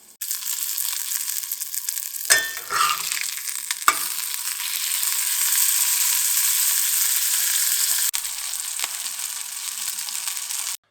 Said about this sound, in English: So I got that sausage patty in there, and I'll just let that fry a little bit.